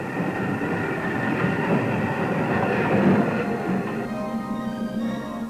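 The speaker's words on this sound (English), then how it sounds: "the boat trains from London arrive at the ocean terminal 2 hours before sailing time" Boat train from London pulling into an ocean liner terminal, a steady rumbling roll of railway carriages with a faint metallic whine, moderately loud and continuous.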